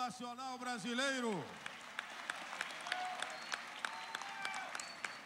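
At the opening ceremony of the Santa Catarina Open Games in Itajaí, a crowd applauds after the Brazilian national anthem. Singing fades out first, then broad, steady clapping from many people carries on, with scattered sharper claps near the front.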